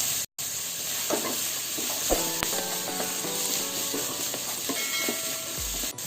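Carrot and capsicum stir-fry on high flame, a steady hiss of sizzling broken by scraping and clinking of a spatula against the pan, with no one talking.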